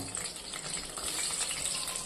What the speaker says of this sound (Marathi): तर आपण ही वांगी फ्राय करून घेऊया